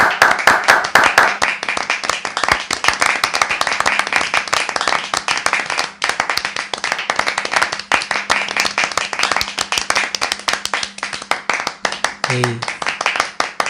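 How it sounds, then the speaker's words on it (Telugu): Church congregation clapping steadily throughout to welcome a newly appointed elder, dense continuous applause with talk and voices mixed in, a brief low tonal sound near the end. "అందరూ చప్పట్లు కొడుతూ ఆయన సాధారణంగా ఆహ్వానిద్దాం"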